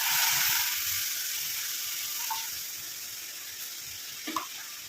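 A steady hiss of juice sizzling in a hot iron pan, loudest at the start and slowly easing, with a couple of faint clinks near the end.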